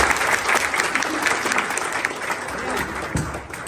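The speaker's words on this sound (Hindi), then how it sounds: "इस बच्ची के लिए ताली बजाइए एक बार" An audience applauds for a little girl at a charity gathering, steady dense clapping that stays loud throughout and eases slightly near the end.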